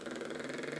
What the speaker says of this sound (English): So I use a bubble exercise, start as low as I possibly can.